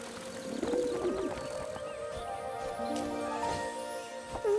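Doves in an animated cartoon coo softly and repeatedly against a busy background of other chirping birds and ambient sound, with a few sharper calls near the end.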